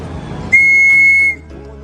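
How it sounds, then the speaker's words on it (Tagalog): A single sharp, high-pitched whistle blast, blown to call racing pigeons back to the loft, sounds loud and close for under a second, clean and steady before cutting off, with faint ambient noise around it. "lakasan mo yung sipol"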